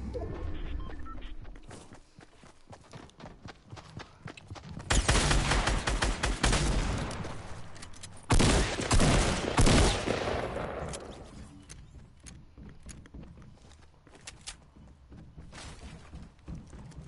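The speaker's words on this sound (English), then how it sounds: "He shoot me with a shotgun." Shotgun blasts in Fortnite Battle Royale crack out in a loud burst of gunfire mid-clip, with scattered quieter shots before and after and no talk over them.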